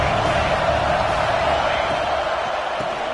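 Football stadium crowd cheering at a game, a dense sustained roar throughout, with a commentator's voice faintly underneath.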